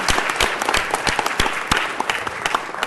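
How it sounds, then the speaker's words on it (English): A council meeting audience applauds, dense rapid clapping from many hands filling the room, loud and steady for a few seconds with no speech over it. "let's give them one more round of applause"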